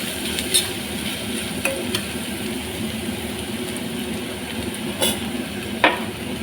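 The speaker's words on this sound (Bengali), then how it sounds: "সবজিগুলিকে নাড়িয়ে দিতে হবে, নাহলে কড়াইয়ের মধ্যে লেগে যাবে।" Mixed vegetables stir-fry in oil in a wok for egg chow mein, making a steady, moderate sizzle with occasional sharp clinks and scrapes as a spatula tosses them.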